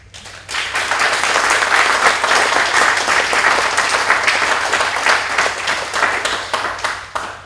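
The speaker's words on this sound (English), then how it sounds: "So I want to thank all those institutions, and then we'll applaud them" Conference audience applauding at a closing plenary, a dense, sustained wash of many hands clapping that starts abruptly, holds steady and loud for several seconds, then begins to thin out at the end.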